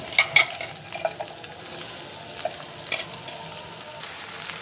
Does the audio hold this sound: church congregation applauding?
no